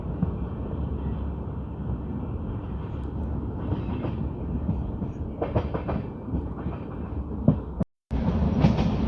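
An LHB coach express train runs steadily on rails on the Hoshiarpur to New Delhi line, heard from on board as a loud, continuous rumble with rhythmic clickety-clack over joints and a brief dropout near the end.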